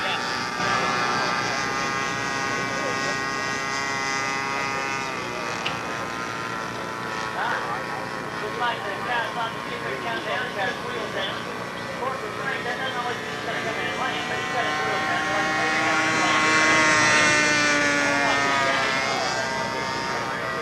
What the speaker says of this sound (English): holds back on the throttle a bit to achieve good scale speed during his mandatory figure 8 maneuver